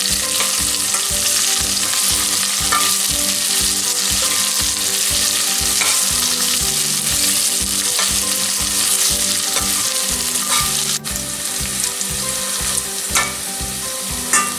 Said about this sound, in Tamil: பாருங்க, எங்களோட வெங்காயம் இப்போ வதங்கி கொண்டிருக்கு